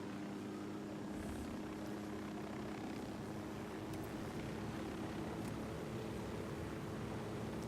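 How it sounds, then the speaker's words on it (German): Helicopter in the video game Ghost Recon Wildlands, a steady low rotor drone and engine hum that holds at a constant level throughout, with no voices over it. "Ah, jetzt haben wir wieder so einen Helikopter."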